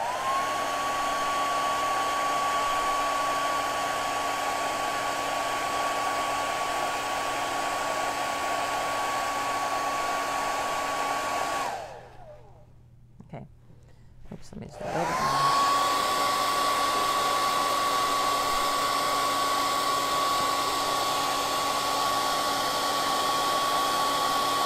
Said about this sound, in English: So let's do a quick blow dry.